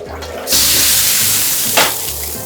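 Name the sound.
steam blasting residue from a wok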